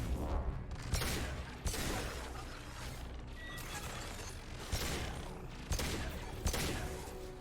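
Bursts of weapon fire from the video game Mass Effect 2 rattle in dense, repeated volleys with sharp cracks, loud and continuous, with brief combat voice lines mixed in.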